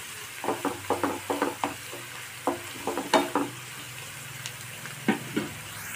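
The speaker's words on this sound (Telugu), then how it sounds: "ఈ మిశ్రమం మొత్తం లైట్ బ్రౌన్ కలర్ వచ్చేంత వరకు మంచిగా వేయించుకోవాలండి." Garlic and chili mixture frying in a pan, with a continuous sizzle broken by repeated quick scraping strokes of a spatula stirring it close by.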